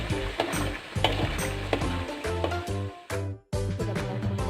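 Shrimp sambal with tempeh is stirred in a frying pan: steady loud sizzling with repeated scraping and clattering strokes of a spatula, close up, and no talking.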